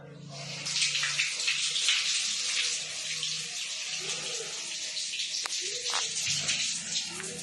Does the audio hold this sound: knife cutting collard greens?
no